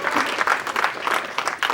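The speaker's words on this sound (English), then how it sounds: "All right, lovely round of applause." Audience applause at a live Winter Carp Show 2023 talk, steady dense clapping from a modest crowd, fairly close and continuous with slight surges, no speech over it.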